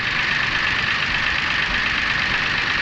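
A Perodua Viva car engine runs at idle, a steady mid-pitched hum with a faint knocking texture that holds constant and close, with no voices over it.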